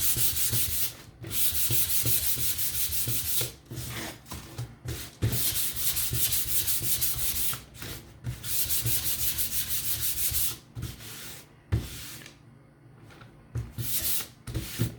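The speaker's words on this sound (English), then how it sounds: "This is dry, so I'm actually gonna sand this and get it ready to go for that." Sandpaper rubs back and forth over a dry painted wooden sign in quick, close scratchy strokes, coming in rhythmic bursts with brief pauses between passes.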